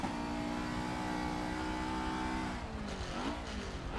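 A Honda S2000 race car in Forza 7 howls under sustained high revs, its loud steady engine note holding before dropping through a gear change and settling again, with no talking.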